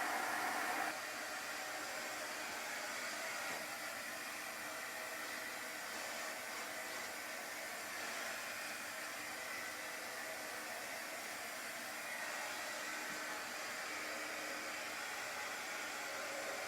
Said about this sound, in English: If you have a blow dryer that's pretty forceful, it'll knock your pumpkin over.